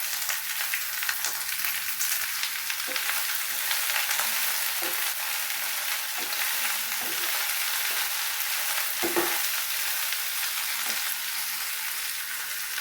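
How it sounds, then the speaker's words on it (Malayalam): Okra frying with salt and mustard seeds for a home lunch, giving a loud, continuous sizzle and crackle throughout, broken by occasional soft knocks of stirring, with no voices. "വെണ്ടയ്ക്ക വന്ന് ഉപ്പെല്ലാം ഇട്ട് കടുകൊക്കെ വറുത്ത് ഉപ്പെല്ലാം ഇട്ട് അടച്ച്"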